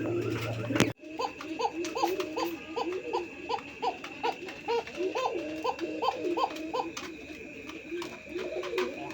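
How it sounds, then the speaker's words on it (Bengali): A pair of Koka pigeons cooing close by, a steady series of soft repeated coos in quick rhythm after a brief loud knock at the start, with no talk. "বন্ধুরা এটা একটা কোকা কবুতরের জোড়া, দেখতেই পারছেন ডাকটা"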